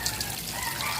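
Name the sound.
water running while rinsing a crab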